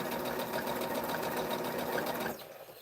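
A sewing machine runs steadily, stitching fabric a quarter inch from the edge while quilting blocks, with a fast even mechanical whir close by that stops abruptly near the end.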